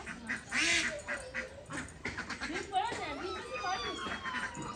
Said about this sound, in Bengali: অনেক বড় হাঁস তো এটা, এটা অনেক বড় হাঁস